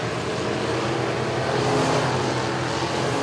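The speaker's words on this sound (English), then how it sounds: "Bad, fast race car." A race car at Clarksville Speedway roars past under a dense, continuous engine drone that swells slightly in the middle, loud and steady with no voices.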